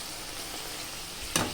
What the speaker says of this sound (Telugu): వంకాయలు వేగాలండి. ఇవి హై ఫ్లేమ్లోనే వేపుకోవాలండి.